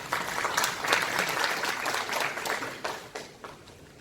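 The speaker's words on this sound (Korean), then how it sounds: "큰 박수 부탁드리겠습니다." Applause from the audience at a Hwaseong citizens' regional meeting (Dongtan 2 area) in a hall, welcoming the meeting chair, steady dense clapping for about four seconds, thinning slightly toward the end.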